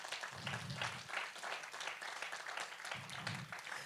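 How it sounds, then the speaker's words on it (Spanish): A church congregation applauds during a Spanish-language sermon, producing a fairly quiet, steady patter of many hands clapping that stays distant and diffuse under a low murmur. "Denle un aplauso al Señor."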